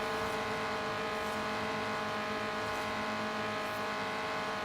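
A race car engine in Forza Horizon 3 drones steadily near the top of its rev range, a constant loud mechanical hum with no shifts or breaks throughout.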